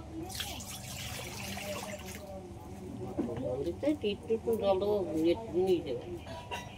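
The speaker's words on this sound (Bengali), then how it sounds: "এবার কড়ার মধ্যে দিয়ে দেবো অল্প করে জল।" A little water poured into a karai wok on a stove before boiling banana flower, a brief splashing rush in the first two seconds, followed by a voice talking over faint dripping.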